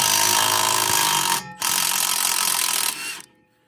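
A loud, steady whirring power tool, likely an impact driver or air ratchet, undoes a bolt on a Honda Acty's suspension in two long bursts separated by a short pause, then stops.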